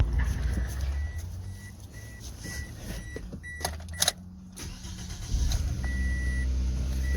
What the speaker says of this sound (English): Started that car.